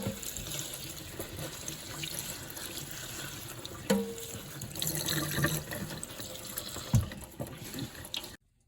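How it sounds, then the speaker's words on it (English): Rose stems are rinsed under lukewarm running tap water, a steady close splashing stream into a sink with occasional louder spatters before it cuts off at the end. "Stems, we're going to run them under lukewarm water just to remove any like excess residue"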